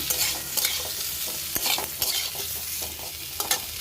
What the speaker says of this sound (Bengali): সামান্য হলুদ আর লবণ দিলাম আলুটা ভাজার জন্য